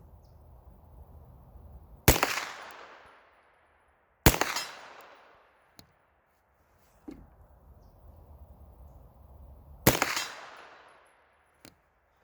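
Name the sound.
Ruger PC-9 carbine shots hitting steel targets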